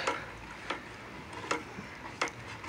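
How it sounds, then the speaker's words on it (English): A multivitamin plant food solution is stirred in a container, making faint, regular clinking taps about every three quarters of a second against a quiet hiss. "all we need to do is stir it"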